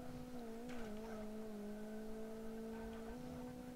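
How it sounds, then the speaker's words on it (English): In the Forza video game, a car's engine holds a steady high rev as its tyres spin against an obstacle, a continuous whining drone that barely shifts in pitch; no voices. "nose it up against something, and we're just going to fry these tyres"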